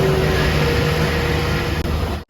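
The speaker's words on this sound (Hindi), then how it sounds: "ए देखो भाई गाड़ी का साउंड सुना भाई ऐसे गड्ढे यार" An old car driving over a potholed truck road toward Manali makes a steady, loud rumbling drone with rattling, continuous and close throughout, ending with an abrupt cutoff.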